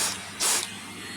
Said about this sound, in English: so you'll just grab your vacuum cleaner and vacuum it out.